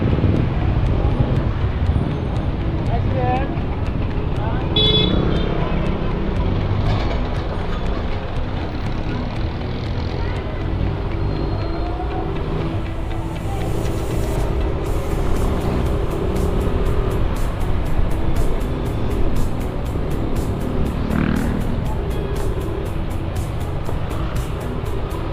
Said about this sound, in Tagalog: Daming sasakyan na jeep dito.